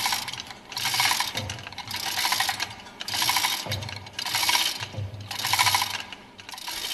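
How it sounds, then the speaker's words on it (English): A tool's center screw is worked on a MAN MC marine main engine high-pressure fuel pump to lift the plunger out. Steady loud ratcheting clicks come in repeated bursts with short pauses between them, close up, and no one speaks. "Pull the center screw of the tool to lift the plunger clear of the bayonet joint in the roller guide"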